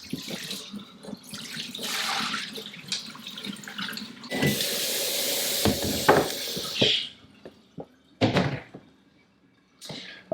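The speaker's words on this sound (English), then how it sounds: "I'm just going to go ahead and drain it into my sink" Wool-scouring water draining into a household sink, a steady rushing splash with gurgles and a few knocks and thunks, fairly close and uneven in level, with no talk.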